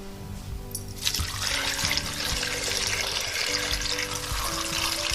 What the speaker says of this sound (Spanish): Vamos a verter el agua.